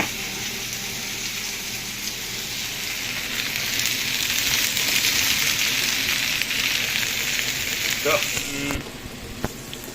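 Potatoes fry in a pan for corned beef hash, giving a loud, steady hiss and crackle up close that softens near the end.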